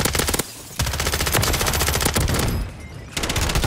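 Battle rifle gunfire in Call of Duty: Modern Warfare III, loud rapid bursts of automatic shots close up, with two short pauses between the strings of fire.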